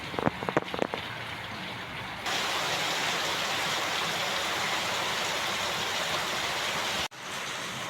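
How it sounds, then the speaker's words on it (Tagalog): Steady rain pours down in a dense, continuous hiss, with a few brief tapping sounds at the start before the downpour settles into an even roar. "Maulan ang ating morning."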